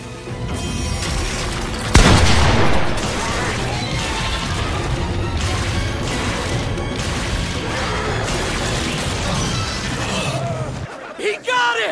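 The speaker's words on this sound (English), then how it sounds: "you guys wanna see Rudy use his magic staff as a sniper?" Rudy's magic staff fires like a sniper rifle in Mushoku Tensei, a single sharp, booming blast followed by a long stretch of loud crashing, rumbling energy that drops away abruptly near the end.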